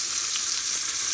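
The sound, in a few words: onions frying in a pan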